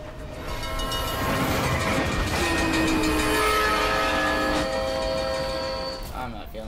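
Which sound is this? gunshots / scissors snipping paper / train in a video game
train in a video game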